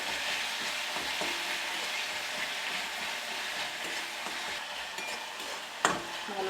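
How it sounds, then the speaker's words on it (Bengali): A softened tomato mixture sautés in a pan, giving a dense, even sizzle like light rain, with occasional scrapes of stirring and a sharp knock near the end. "ভালোভাবে এটা আমি আবারও কষিয়ে নিচ্ছি।"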